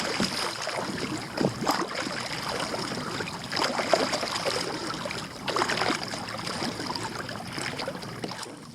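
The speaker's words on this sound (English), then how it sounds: "So I put my paddle in the water and I'm moving it side to side, slightly angling the paddle face." Kayak paddle sweeping side to side through water during stationary positioning strokes for kayak fishing, a steady swishing and trickling with a few stronger splashy pulls, close and continuous.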